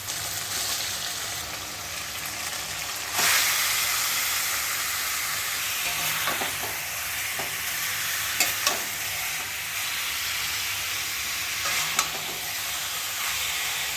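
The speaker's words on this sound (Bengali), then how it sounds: "তো দেখো আমার মাংসটা প্রায় কষানো হয়ে গেছে, আর এটা কিন্তু পুরোটাই কাঁচা লঙ্কাতে রান্না হচ্ছে।" Chicken pieces cook with green chillies in a hot pan, giving a steady close sizzle and hiss that lasts throughout, broken now and then by brief clicks and scrapes of stirring.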